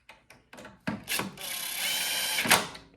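A power impact gun snugs bolts on a Yard Machines Powermore snow blower. A few sharp clicks come first, then a close, loud whirring burst that runs for about a second and a half before stopping.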